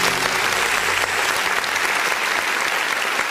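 A church congregation claps together during a worship service, a dense, steady wash of applause that holds at full strength and stays close throughout, with no talk on top.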